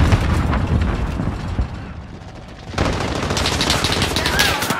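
Heavy rapid gunfire and blasts in Call of Duty Warzone, with dense continuous bursts that ease briefly midway and then resume at full loudness.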